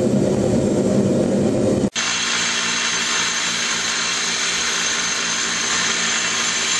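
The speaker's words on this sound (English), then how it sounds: "He's finished grinding now." Knife blade ground on a powered grinder while making a knife, a loud continuous whirring grind that cuts out briefly near two seconds, then resumes as a steady broadband hum.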